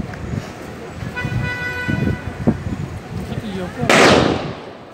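A controlled detonation of a suspect package at Porte d'Ivry goes off as one sharp, loud blast near the end, over street traffic noise, a horn-like tone and people talking nearby.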